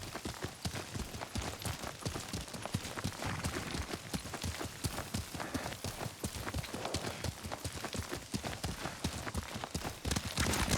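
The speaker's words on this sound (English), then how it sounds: "Lord Sakai taught me to ride a horse." In the Ghost of Tsushima video game, a horse gallops with rapid, continuous hoofbeats that stay close and even across the whole stretch, without any pause.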